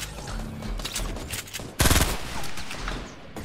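Rapid gunfire in the video game Fortnite: dense bursts of automatic shots crackle continuously, with one especially loud, close volley in the middle and steady firing around it.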